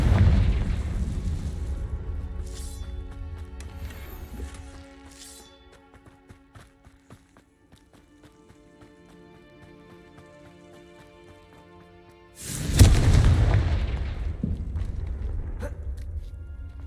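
Confringo fire spell from Hogwarts Legacy bursting in a heavy booming explosion, then a long ringing decay with faint magical tinkles, before a second loud blast erupts near the end.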